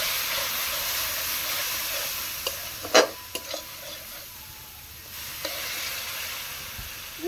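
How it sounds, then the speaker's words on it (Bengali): Kashmiri chili powder masala frying with a splash of water for paneer masala, a steady close sizzle under spoon stirring, with a few sharper scraping clatters partway through. "কাশ্মীরি লঙ্কার গুঁড়া দিয়ে দিলাম একটু। ভালো করে ভেজে নিলাম। একটু জল দিয়ে দিলাম মশলাটায়।"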